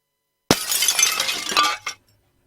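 Glass shattering as a sound effect in a radio ad for a glass replacement business: a sudden loud crash, then a spray of tinkling shards and one final clink before silence.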